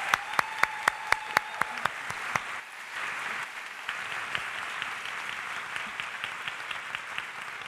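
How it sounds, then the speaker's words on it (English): Audience applause at a school district convocation day, opening with a few sharp separate claps and then a broad, steady wash of many hands clapping at moderate distance, with no talk over it. "Let's give them a round of applause."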